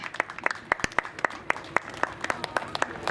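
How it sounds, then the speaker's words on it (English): Rodeo crowd applauding after a ranch team sorting run, with scattered distinct claps from a modest crowd, fairly close and irregular in rhythm, lasting about three seconds. "Let's hear a nice round of applause."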